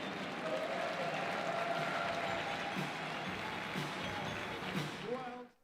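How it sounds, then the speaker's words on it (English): Sustained applause from an audience for two riders at a three-day indoor cycling party night in London, dense and steady for about five seconds amid crowd noise and faint voices, then tapering off abruptly at the end. "Let's please give Peter and Katie a wonderful round of applause and recognise their huge achievements"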